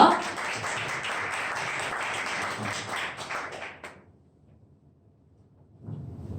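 An audience at a Korean self-presentation contest breaks into dense, steady applause for a speaker, lasting about four seconds before stopping abruptly into near silence, then a faint stir.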